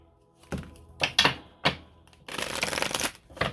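Tarot cards being riffled and handled in a few quick bursts, with a longer shuffle later, close up and moderately loud with no talking.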